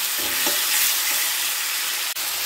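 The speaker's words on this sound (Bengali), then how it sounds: "ভালো করে এটাকে নেড়ে রসুনটা ভালোভাবে ভেজে নিতে হবে" Garlic paste sizzles in a pan while being stirred, a bright broadband hiss with soft scraping strokes of the spatula, close and steady, with one brief dip near the end.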